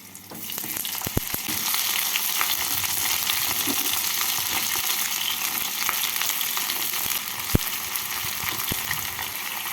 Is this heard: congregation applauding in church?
no